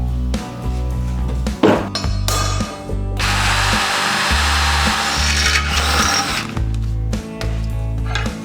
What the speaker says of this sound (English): we're going to take a measure down and drill one more hole down here